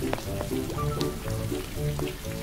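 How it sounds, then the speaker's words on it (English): A cartoon rain effect for a stop-motion toy scene of pigs playing in muddy puddles: a steady, dense patter of drops with a faint tonal layer beneath, continuous throughout. "it begins to rain."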